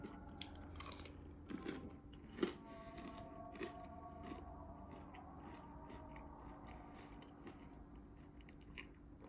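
Someone eats a crispy reheated Keskinoğlu chicken fillet with sauce, making faint, close crunchy bites and soft chewing in a quiet room.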